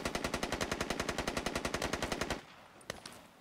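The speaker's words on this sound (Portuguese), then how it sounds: "A galera tá atirando aqui com vontade." Automatic gunfire from the military shooter game Squad rattles in a fast, steady burst of about twenty rounds that cuts off sharply, leaving a few faint distant shots.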